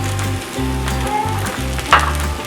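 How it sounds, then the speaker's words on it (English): Carrots, peas, capsicum and corn sauté in a hot pan, a steady close sizzle with a low hum beneath and a brief clatter of stirring near the end. "We'll saute them for a few minutes."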